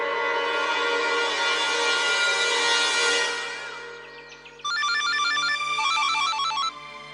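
A telephone ringtone chimes loudly and close: a sustained electronic melody swells and fades, then a brighter repeating ring pattern pulses for a couple of seconds before cutting off, with no voices over it.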